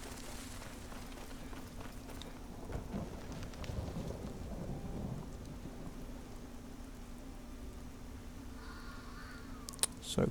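Steady rain with rolling thunder in Skyrim, a continuous wet hiss over a low rumble that swells around the middle, with faint bird calls near the end.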